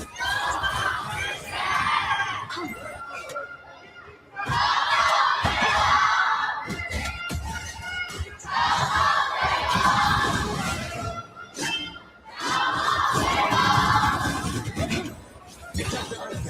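A large crowd at the grand finals of an esports tournament roars and cheers in four big surging waves, each swelling loudly for a few seconds before dipping into quieter murmur between bursts.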